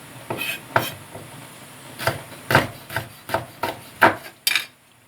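A knife chops onion on a cutting board in about ten sharp, distinct knocks at an uneven pace. The strokes are close and clear, with a quiet kitchen background and no voices.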